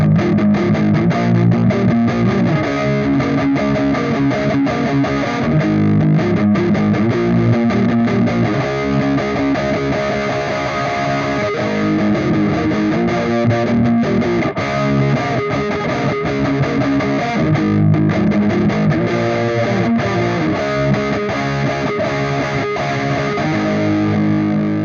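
Electric guitar run through the Neurontube Tangie amp sim on its Tight Rock preset, playing dense distorted riffs with chugging palm-muted rhythms, loud and continuous with no talk.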